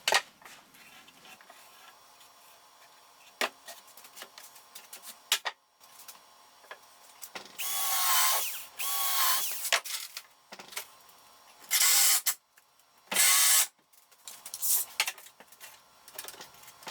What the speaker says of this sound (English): And I'll just shoot a couple of pins.